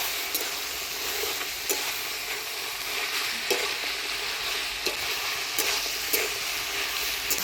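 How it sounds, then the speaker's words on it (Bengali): Fried lentil dumplings (bori) are stirred into vegetables with bottle gourd leaves and stems in a pan over a village cooking fire, a constant soft sizzle broken by sharp, regular scrapes and taps of the spatula against the pan. "ডালের বড়িটা দিয়ে ভালো করে নাড়াচাড়া করে নিই।"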